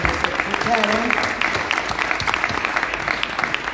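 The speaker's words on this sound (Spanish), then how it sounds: "Y aplausos nuestros a ellos" Studio audience applause, scattered distinct claps over a crowd wash, with a voice briefly talking near the start.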